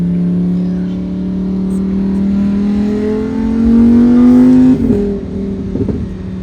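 A 2023 Lamborghini Huracán Tecnica engine climbs steadily in pitch as it accelerates, then drops sharply with a couple of quick shift blips near the end.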